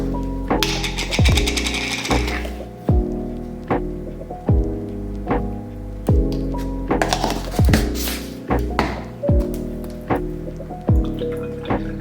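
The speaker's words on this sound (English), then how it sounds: "construction is really early today" Construction work goes on outside, with rhythmic heavy thuds and banging, some scraping bursts, and a steady low rumble underneath, moderately loud and repeating every second or so.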